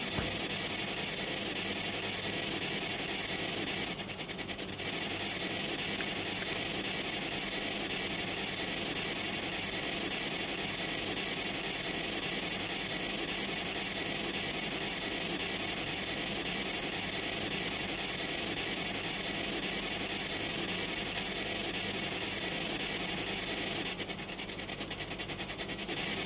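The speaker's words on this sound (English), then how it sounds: "Noise you can hear in the background is a spirit box." A spirit box sweeps radio channels, giving a steady, loud wash of hissing static that runs unbroken for the whole stretch, with brief choppy bursts near the start and end and no voices over it.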